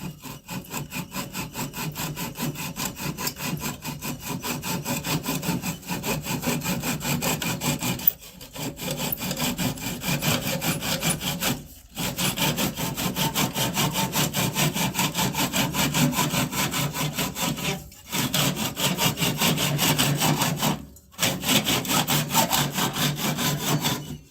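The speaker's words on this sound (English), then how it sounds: "I'm going to part it off with the saw." A saw parts off a turned cherry wood ring from a segmented vessel, rasping steadily and loudly up close in continuous back-and-forth strokes, broken by a few short pauses.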